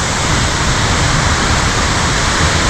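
A waterfall roars in a dense, steady rush of broadband noise, loud and close, with no other sounds.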